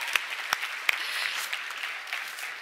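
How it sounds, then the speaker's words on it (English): Audience applause at the Global Goals Forum, a moderate, steady patter of clapping with a few sharper individual claps standing out near the start, fairly distant and without voices. "Can we get an applause for that?"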